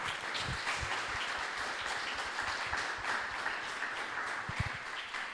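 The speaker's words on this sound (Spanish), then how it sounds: "¿Le damos un aplauso," Audience applause for the guest at the close of a live podcast recording on apologetics, a steady, dense wash of many hands clapping at moderate loudness that holds evenly throughout with no talk over it.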